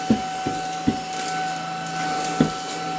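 A Buture VC90 cordless vacuum cleaner runs with a steady whine and tonal hum, punctuated by several sharp clacks and bumps as it is pushed around, close and fairly loud with no talking.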